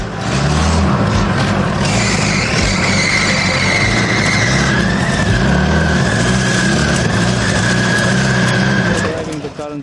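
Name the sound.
mini Cybertruck car driving into workshop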